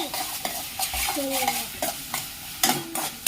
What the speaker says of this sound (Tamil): இதுல வந்து ஒரு அரை வெங்காயத்தை வந்து உள்ள போட்டுட்டு நல்லா கிளறி விட்டுடலாம்.